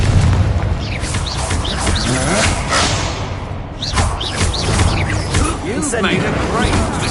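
Confringo fire spell explosions in Hogwarts Legacy combat, several booming blasts and thuds in a busy fight, loud and close, with a voice talking over them.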